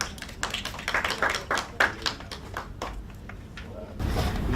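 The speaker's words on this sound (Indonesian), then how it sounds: "Tepuk tangannya." An audience at an indoor event on cervical cancer gives scattered applause, uneven bursts of clapping that thin out over a few seconds before a low background rumble takes over.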